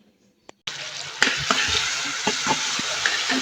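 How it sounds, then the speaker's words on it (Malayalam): Tomatoes, green chilies and crushed spices hit hot oil in an old nonstick pan for a fish curry, bursting into a loud steady sizzle after a brief quiet start, with a few spoon clinks and stirring knocks over the frying. "നമ്മൾ ആദ്യം എണ്ണ ചൂടാക്കാണ്ടായിട്ട് തക്കാളി"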